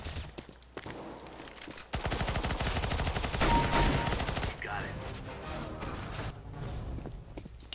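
Rapid fully automatic shotgun blasts from an XM1014 in CS:GO, a fast, dense string of loud shots lasting several seconds, then fading into scattered softer gunfire and footsteps.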